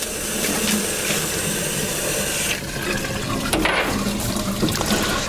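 Water streams and splashes over a floor scrubber pad as dirt is rinsed off, a steady close rush with a brief dip midway and light spattering, no speech.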